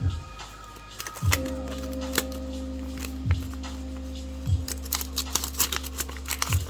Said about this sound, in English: Try some scissor action here